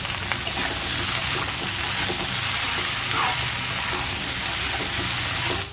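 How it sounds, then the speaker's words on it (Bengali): Potatoes stirred and fried with spices in a pan for a fish curry, giving a steady, dense sizzle throughout with soft scraping stir strokes, close and loud, with no talking. "এবার আলুটাকে দিয়ে ভালো করে হালকা হালকা করে একটু করে নেড়ে চেড়ে নিতে হবে।"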